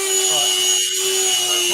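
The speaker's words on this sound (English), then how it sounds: "There's a drill going or something in the background." A power drill whines steadily in the background for the whole stretch, a constant high-pitched motor hum.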